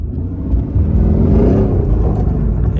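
A Mercedes-AMG GT R engine revs hard while the car spins donuts: a loud, close, continuous low rumble that swells in the middle and holds steady throughout.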